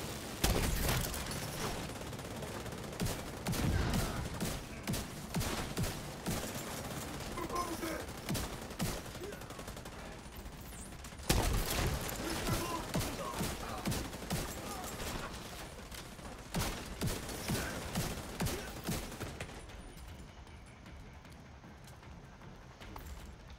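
Dense bursts of gunfire from a squad firefight in The Division 2, sharp repeated shots crackling almost without pause over a loud, busy battle din across the whole stretch.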